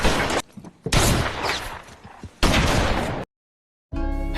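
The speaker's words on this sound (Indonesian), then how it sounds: "Kejadian itu menjadi awal baku tembak pun dimulai." Gunfire in a film shootout: loud, dense volleys of shots and blasts in clusters, separated by short lulls, then a sudden silence before another harsh burst.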